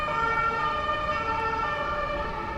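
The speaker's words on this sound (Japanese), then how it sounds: "今ねパトカー通ってました。" A police car siren sounds steady and loud on a busy Paris street near the Champs-Élysées, its wailing tones held over the constant rumble of traffic.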